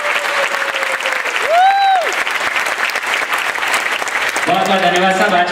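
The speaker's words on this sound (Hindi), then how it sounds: "इनकी श्रद्धांजलि को जोरदार तालियां" Loud, sustained applause from the audience at a musical tribute concert to filmmaker Hrishikesh Mukherjee, a dense wash of clapping running throughout, with a brief sung tone and some music entering near the end.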